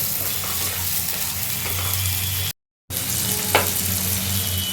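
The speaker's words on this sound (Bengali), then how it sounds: "আমি এখানে দিয়ে দিচ্ছি একটা মিডিয়াম সাইজের টমেটো কুচি ভালো করে এটা যতক্ষণ না টমেটোটা গলে যাচ্ছে ভেজে নেবো ভালো করে" Chopped medium-sized tomato frying with onion in a pan, a steady close sizzle with faint stirring scrapes, broken by a brief silent gap and a short clink near the end.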